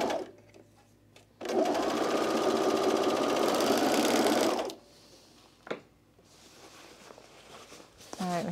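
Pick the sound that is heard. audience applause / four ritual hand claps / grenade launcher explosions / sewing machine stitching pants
sewing machine stitching pants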